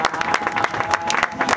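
Crowd applause at a community foundation event in Maluku, clapping steadily throughout for a performer, a dense continuous patter with a few louder peaks.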